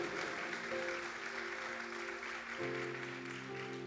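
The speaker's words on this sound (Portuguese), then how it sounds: "dê um aplauso ao Senhor com uma alegria" Congregation clapping during a Portuguese-language afternoon church service, a steady wash of applause under sustained organ or keyboard chords that shift partway through, moderately faint throughout.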